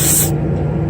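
Refrigerant hisses sharply from an HVAC gauge hose being purged on a high side connection of a Trane unit, a loud, close burst lasting about a third of a second before cutting off, leaving a low mechanical hum.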